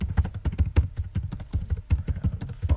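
Fingers type in quick, close bursts on a computer keyboard, irregular clicking keystrokes with a few brief pauses, no talking over them.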